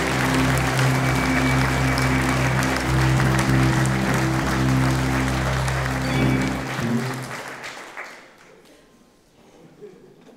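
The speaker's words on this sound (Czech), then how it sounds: "Takže si zatleskejte a moc děkujeme." A concert audience at a Christmas charity concert claps loudly and steadily over sustained musical tones, then the applause thins and fades away near the end.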